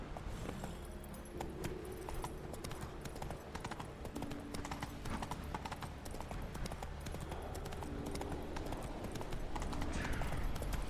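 In The Witcher 3 video game, the horse Roach trots along with a steady rhythmic clip-clop of hooves, faint and continuous, accompanied by soft jangling and background game sounds, with no talking.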